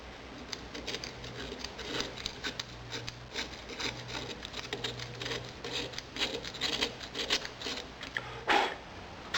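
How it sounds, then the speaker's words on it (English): Edges of a two-piece core mold being trimmed and filed by hand, a steady scraping and rasping with irregular strokes throughout, fairly close, with a sharper scrape near the end. "And this is how we trim the edges."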